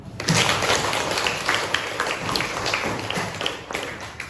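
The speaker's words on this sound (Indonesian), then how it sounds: "Mari kita beri apresiasi dengan tepuk tangan." Students in a classroom clap their hands in a burst of applause, a dense, close patter of many claps lasting a few seconds and fading slightly toward the end, with no talking.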